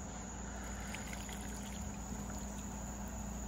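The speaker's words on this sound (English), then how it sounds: "So we're gonna go ahead and pour it right over the fish." Citrus marinade poured over raw fish for a smoky summer ceviche at an RV campsite, a steady soft trickling pour heard close and faint against a constant background hum, with no talking.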